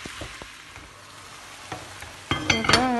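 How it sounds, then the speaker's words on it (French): Vegetables frying in a pan for rice with chicken, a soft sizzle with a few light clicks, then louder stirring and scraping near the end. "هادو بداو كيتحمروا هنايا شويه، بداو كيتقلاو"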